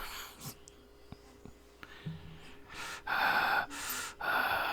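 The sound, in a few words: heavy breathing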